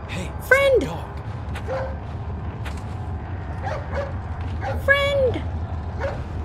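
A dog in the Resident Evil 4 video game gives short yips and whimpering barks, two clear bursts a few seconds apart over quiet game ambience, with a person talking in between.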